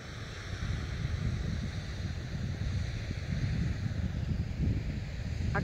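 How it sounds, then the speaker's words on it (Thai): A small waterfall outside town rushes steadily at close range on a cool day, a dense continuous roar of falling water without pauses, no talk over it. "อากาศดีมากเลยแต่เย็นนะเนี่ยดูเสียงน้ำตก"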